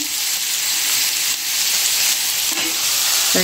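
Onion and tomato sauté in a pan with a constant bright sizzle and hiss, close and even, with a faint stirring clink near the end.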